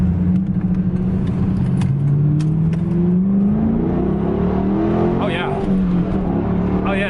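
A rebuilt Chevrolet Camaro making 550 hp revs loudly up close, its engine pitch climbing and falling through repeated throttle blips, with voices nearby.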